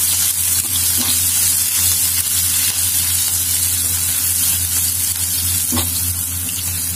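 Green chilies and ginger sautéing in a hot pan, a loud continuous sizzle and hiss with a couple of brief clinks from stirring, no voices.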